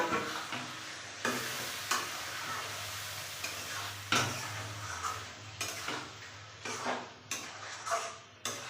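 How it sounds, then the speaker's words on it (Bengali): Marinated chicken with chilli, onion, garlic and ginger sautéing in a pan: a low sizzle under repeated sharp scrapes and clanks of a spatula against the metal pan, close and irregular, with no talking. "মশলা দিয়ে মাংসটা কষে নিই।"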